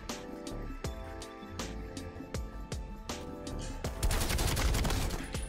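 Weapon fire in Call of Duty Black Ops Cold War, with a grenade launched among rapid repeated gunshots, loud and punchy, building into a dense burst of fire toward the end, with no speech.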